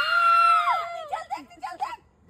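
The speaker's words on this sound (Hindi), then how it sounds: "जोर से चिल्ला चिल्ला।" A person lets out a loud, drawn-out scream that slides downward, then breaks into several shorter gasping cries, close and alone, during a late-night Kali Mata role shoot.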